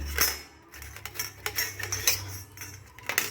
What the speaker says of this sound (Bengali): এই গ্রেটার দিয়ে পুরো গাজরটাকে গ্রেট করে নেব